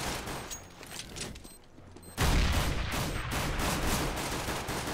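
Gunfire in Counter-Strike: Global Offensive, with a round of shots that jumps sharply louder partway through and carries on as dense, sustained firing.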